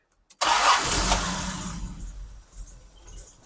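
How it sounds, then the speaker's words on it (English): After brief silence, a Jaguar E-Type engine in poor running condition cranks and fires into a loud roar, then settles to an uneven idle that fades somewhat. "Okay, Jodie, would you kindly start up this lovely E-Type Jaguar as received"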